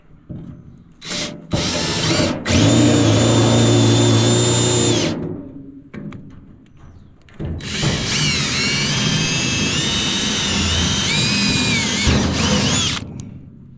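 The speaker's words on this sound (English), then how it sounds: "So now we just want to drill a hole." A power drill whines loudly in two long bursts, the second starting after a brief pause, its pitch wavering as it bores bolt holes through the bed floor of a 1966 GMC truck.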